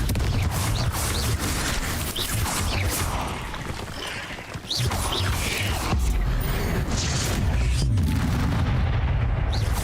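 Confringo blasting spells burst repeatedly in a Harry Potter-style video game, loud booming explosions and rumbling impacts arriving in quick succession with barely any gap between them.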